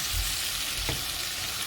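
Chicken for brown stew chicken sautes in a pot with a steady, close crackling sizzle, broken once by a short knock of the spoon being stirred through.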